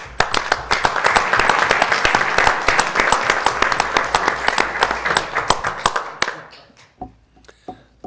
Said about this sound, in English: could we even have a round of applause?